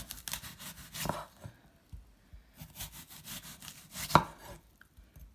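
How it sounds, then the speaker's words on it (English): A knife chops repeatedly through an apple onto a cutting board, cutting the sides off close to the core, irregular cuts with brief pauses and one sharper, louder chop near the end. "you start with chopping off the sides here as close to the core as you can"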